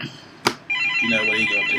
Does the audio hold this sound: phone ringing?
yes